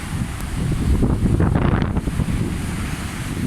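Strong wind buffeting the microphone at Isipingo Beach in South Africa, with surf crashing and rolling in beneath, a loud turbulent roar that surges and eases across the clip with no voices.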